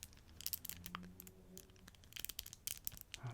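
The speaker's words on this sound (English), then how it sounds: "this sort of plastic fidget toy type thing" Plastic fidget toy handled close to the microphone in a quiet ASMR setting: soft crinkly clicks and scratchy rustles in irregular bursts, faint and intimate.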